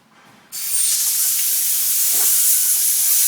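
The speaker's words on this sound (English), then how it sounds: "Ricky's going to show you now how to diesel the machine." Diesel sprays over a concrete machine in a loud, steady hiss that bursts on abruptly after a short quiet moment and continues without a break, close by and with no talking.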